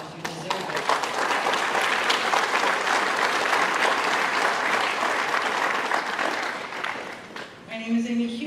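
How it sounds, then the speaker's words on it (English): A school scholarship-night audience bursts into loud, sustained applause that fills the hall for several seconds, then fades as a voice begins speaking near the end. "So give you guys a round of applause."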